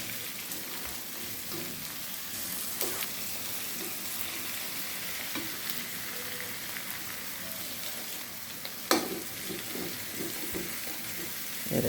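Steady sizzling of prawn heads frying in a pan fills the clip, with intermittent stirring clatter and a sharp scrape near the end.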